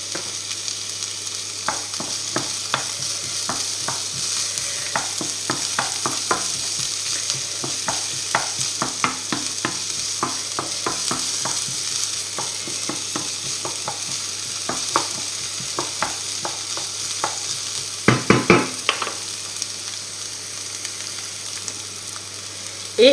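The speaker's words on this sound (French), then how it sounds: "On met notre ail et notre oignon. Là." Garlic and onion fry in a pan for aubergine lasagne, with a steady sizzle under repeated utensil scrapes and stirring clicks, including a brief burst of louder knocks near the end.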